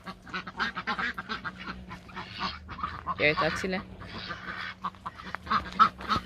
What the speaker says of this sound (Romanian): Aici am rațele.